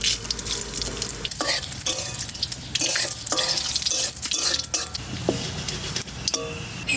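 Whole spices and a torn bay leaf sizzling in hot mustard oil in a pan, a continuous loud frying hiss with bursts of crackle, stirring scrapes and occasional utensil clinks close by.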